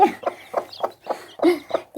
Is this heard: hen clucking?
yes